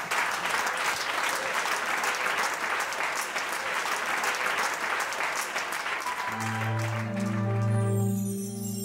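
A live concert audience applauds a performer with loud, sustained clapping; near the end, sustained musical tones rise as the band begins playing under the fading applause.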